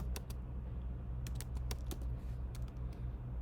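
Quick bursts of keys clack on a computer keyboard, close and fairly quiet, over a steady low hum with no one talking.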